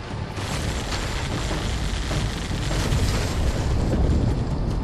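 A MAC blast levels a player's expansion base in a strategy video game: one dense, roaring explosive rumble fills the whole stretch at steady, loud intensity.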